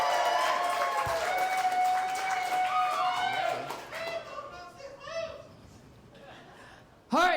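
Comedy club crowd at a live contest show whooping and cheering with scattered clapping, loud at first then fading to a few lingering shouts, with a sharp burst at the very end.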